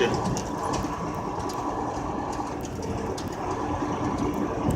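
Continuous rumbling train noise with rhythmic clatter, heard from a moderate distance near the California–Arizona border, steady and fairly faint throughout.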